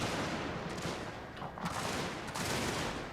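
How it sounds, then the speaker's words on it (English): Rolling gunfire volleys from massed troops in the strategy game Total Fots 2, a dense, continuous crackle of overlapping musket-like shots with no clear gaps, loud and steady throughout. "Pull back and open fire at the enemy. Return fire."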